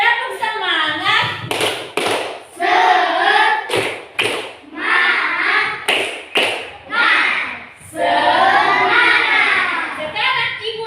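A classroom of children does a rhythmic spirit clap, short sharp clap bursts interleaved with chanted voices led by the teacher, close and lively.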